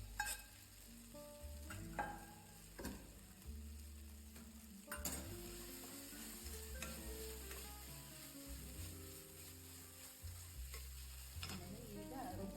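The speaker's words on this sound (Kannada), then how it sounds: "ನಾನು ಹುರ್ಕೊಂಡಿದ್ನಲ್ಲ ಅದು ಬೆಂಡೆಕಾಯಿ ಹಾಕ್ಕೊತಾ ಇದ್ದೀನಿ." Fried okra tipped into a hot pan for Bendekayi Huli, a Karnataka okra curry, and stirred, with a soft continuous sizzle broken by clanks and scrapes of the spoon against the pan at close range.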